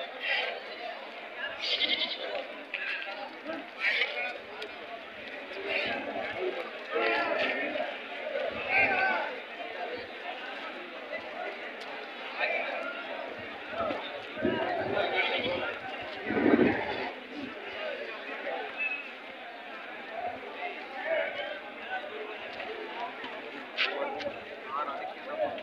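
Busy outdoor sheep and goat livestock market in Tumakuru, with bleating animals scattered through a constant crowd murmur, shuffling hooves and steady overlapping chatter throughout.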